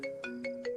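A mobile phone ringtone goes unanswered, a clear electronic melody of four quick tonal pulses in a repeating pattern, close and moderately loud with no voices.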